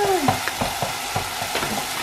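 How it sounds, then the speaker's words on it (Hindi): A handful of grated coconut fries in a pan with a continuous sizzle. Repeated scraping stir strokes come at a quick, regular rhythm, close up and alone. "उसको भी एक मिनट फ्राई करना है अब एक मिनट हो गया इसमें अभी डालना है एक मुट्ठी ग्रेटेड कोकोनट"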